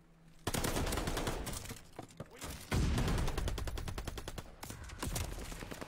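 Rapid video game gunfire in a ranked match, loud dense bursts of automatic shots with short gaps, close and continuous across most of the stretch.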